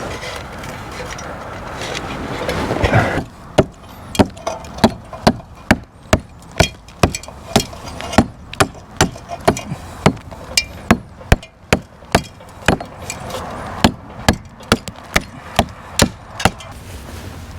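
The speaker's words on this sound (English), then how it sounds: "so it's easier with a hammer." Hammer striking a chisel to clear cracked mortar joints in a brick wall, a long run of sharp, evenly spaced metallic blows, loud and close, after a brief stretch of scraping.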